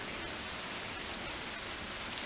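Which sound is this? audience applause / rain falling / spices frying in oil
rain falling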